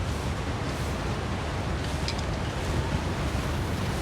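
Steady wind roars outdoors in The Long Dark, a continuous broad rushing gust with no pauses, moderately loud and constant throughout.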